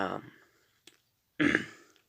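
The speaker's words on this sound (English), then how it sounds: "sorry to clear my throat" A nearby voice makes a short throaty sound, then after a brief silence gives a louder, rougher throat clearing.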